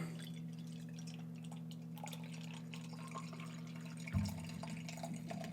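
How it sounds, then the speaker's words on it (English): Lift Bridge Farm Girl Saison, an ale brewed with orange peel, poured into a glass, a faint liquid trickle under a steady low hum, with a brief louder splash near the end. "So we'll give it a pour."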